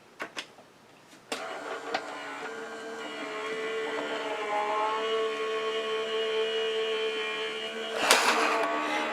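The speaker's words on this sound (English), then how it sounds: "we're going to run this side through my die cutting machine" A die cutting machine runs off to the side as it presses sequin card pieces, giving a steady mechanical whir that slowly builds and holds. A couple of clicks come before it and a knock comes near the end.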